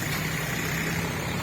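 A tractor engine idles steadily at a busy onion market in Lasalgaon, a continuous low rumble with a droning hum, close and unbroken, with no talk over it.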